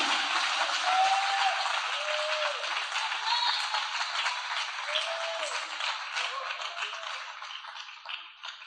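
A church congregation applauds together in a reverberant hall, a broad steady wash of clapping that holds for several seconds and slowly tapers off, with faint sustained tones underneath.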